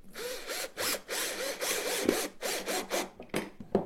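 A cordless screwdriver drives screws into wooden Christmas tree pieces in a quick series of short whirring bursts, close and fairly quiet, with brief pauses between them.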